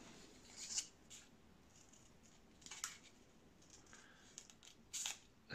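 Scissors snip at a model aircraft cowl for a Cirrus Moth, a few quiet, separate cutting crunches spaced out over a faint, steady background hiss.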